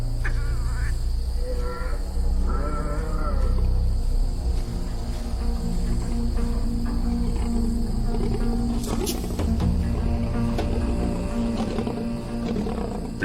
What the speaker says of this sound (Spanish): Los leones acuden al anuncio de comida gratis.